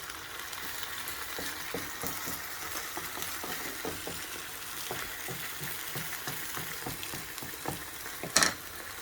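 Egg for a healthy omelette sizzling in a pan, a steady bright frying hiss with small crackles and occasional stirring or shaking clatter, fairly quiet and close, one louder scrape near the end.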